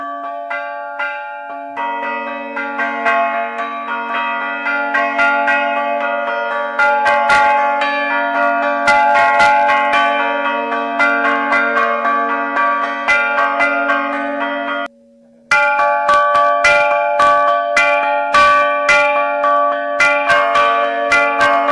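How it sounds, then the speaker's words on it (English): Slovenian church bell chiming, the bells struck by hand with hammers in a traditional pattern, rings out loud and close in a steady, rapid rhythmic peal of layered metallic tones, briefly cut off and then resuming. "so they continued the tradition of bell chiming"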